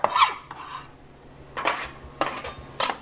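A lime rubbed against a metal grater for its zest gives several short rasping strokes in bursts, close and fairly loud, with quiet gaps between them and no talking.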